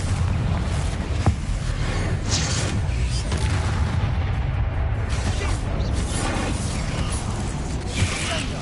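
Confringo fire-blast spell in Hogwarts Legacy, heard as a dense run of rumbling booms and crackling blasts with a low, heavy roar underneath, sustained throughout at close range.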